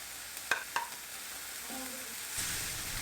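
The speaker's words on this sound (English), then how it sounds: "First, I sautéed the peppers" Peppers sautéing in chicken juices in a pan on the stove, a soft steady sizzle with a couple of sharp utensil clicks early on and the frying hiss swelling slightly toward the end.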